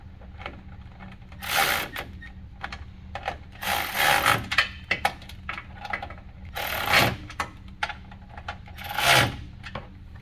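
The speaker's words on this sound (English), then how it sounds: "take our 10mm socket, and we're just going to snug these up" Ratcheting 10mm socket snugging mud flap bolts on a Polaris RZR Pro R trailing arm, several separate bursts of rasping clicks, close and moderately loud, with quiet gaps between.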